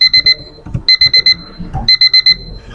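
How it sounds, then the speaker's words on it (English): An online alarm beeps in three quick bursts of rapid electronic pips, loud and close, with faint room noise between the bursts. "That's your online alarm, so that I don't detain you."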